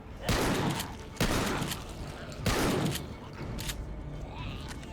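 Handgun fire in the video game The Walking Dead: Survival Instinct, three loud sharp shots spaced about a second apart, each trailing into a short echoing decay, then a fainter fourth burst.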